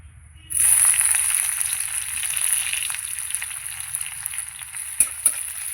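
Onion and young jute leaves hit hot oil in a pan with a sudden loud sizzle that holds steady and close, broken near the end by a couple of sharp stirring knocks.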